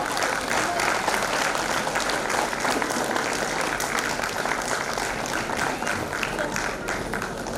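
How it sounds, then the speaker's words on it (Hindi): Loud, sustained applause from an audience at a prize announcement during an award ceremony, dense clapping that continues steadily throughout without pause. "प्लीज जोरदार तालियां।"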